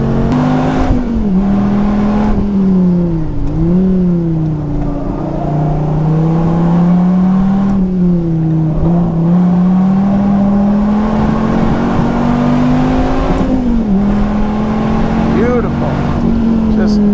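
A Dodge Viper ACR, a production-based track car, laps a race circuit with its engine droning loud and steady, rising and dipping through gear changes, while someone talks over it throughout.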